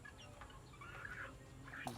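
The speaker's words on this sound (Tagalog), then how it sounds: "So mga kamanok, sarap sila sa kanang kinain." Chickens give soft clucks and brief calls while feeding, faint and close, over low background noise.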